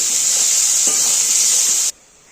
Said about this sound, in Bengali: এখন এই মশলাটাই ভেজে নেব